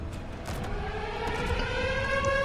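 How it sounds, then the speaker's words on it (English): A steady wailing siren in the video game Space Engineers rises in pitch over a constant low rumble, loud and continuous throughout. "Is it a siren?"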